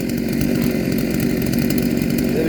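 A 72cc chainsaw runs steadily at high speed, a loud, close, continuous buzzing drone with no pauses and no talking.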